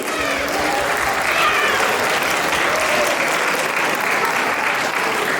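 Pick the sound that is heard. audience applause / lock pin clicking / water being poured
audience applause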